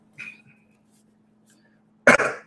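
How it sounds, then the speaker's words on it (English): A man clears his throat once in a short, forceful burst near the end, after a faint breathy sound and a stretch of near silence with a low steady hum. "let me clear my throat"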